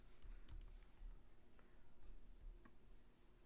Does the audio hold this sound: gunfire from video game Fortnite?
no